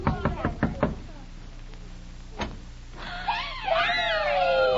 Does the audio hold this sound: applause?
no